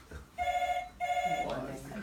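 Telephone bell ringing in a house, two long rings with a short gap between them, fairly loud and close, followed by people talking.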